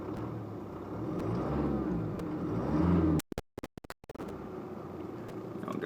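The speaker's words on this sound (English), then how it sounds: "I'm just going to tap the throttle." A car engine revs briefly as the throttle is tapped with a throttle controller in its most sensitive mode, a steady mid-pitched engine drone rising over about three seconds before sharp cutting dropouts interrupt it.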